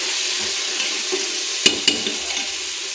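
Steady sizzling of chicken biryani masala frying in a pan as fresh mint leaves go in, with a couple of sharp clatters of a spoon stirring against the pot partway through.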